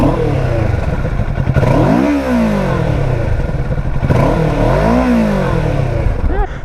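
A 2017 Kawasaki Ninja 650 motorcycle engine revved twice, each blip rising sharply in pitch and falling back to idle, close and loud with a rough, clattering exhaust note.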